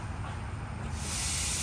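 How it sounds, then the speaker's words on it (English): A steady hiss of compressed air from an air compressor filling a McLaren tire, rising sharply and growing brighter and louder partway through, close and alone without talk. "that's the compressor, you will hear it. As soon as you put air in it"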